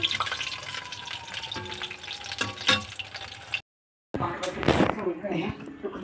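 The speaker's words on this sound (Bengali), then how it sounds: "এই দেখুন বন্ধুরা, বড়া ভাজছে, উল্টে দিল এখন।" Fritters of bok (Sesbania) flowers fry in hot oil, a moderate crackling sizzle with clinks as they are flipped, broken by a brief silent gap before resuming.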